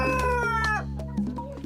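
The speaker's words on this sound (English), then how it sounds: "First up, George's chickens." Chickens cluck and call nearby, with drawn-out tonal squawks and short clucks overlapping over a low steady background hum.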